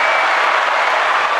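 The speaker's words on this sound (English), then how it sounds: "You could put an applause or something behind that." Loud, steady applause, a dense even wash of clapping with no voices.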